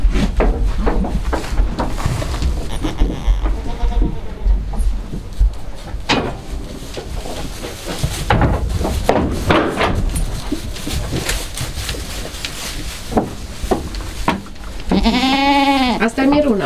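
Farm goats close to kidding bleat repeatedly, with several wavering calls rising over voices and background movement, the loudest bleat coming near the end.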